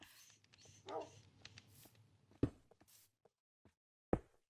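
Dogs in a farming video game barking and yipping, a few sharp barks and whimpers spread across a few seconds amid quiet game sounds, close but soft, with brief gaps of near silence.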